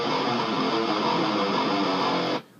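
Electric guitar reamped through an Axe-Fx effects unit, a dense, saturated sustained chord for about two seconds that then cuts off abruptly.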